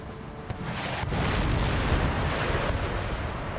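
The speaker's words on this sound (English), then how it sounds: "Have the cannon fire here." Cannon fire and explosions in the Total War video game during a Russian Empire campaign against the Crimean Khanate: a deep, sustained rumbling boom that builds after a sharp onset and rolls on steadily, with no talk.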